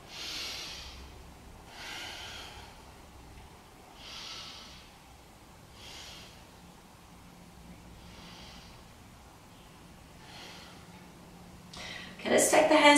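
Slow deep breathing held during a beginner yoga stretch, about six soft airy inhale-exhale swells spaced roughly two seconds apart, quiet and close, ending with a sudden louder rustle.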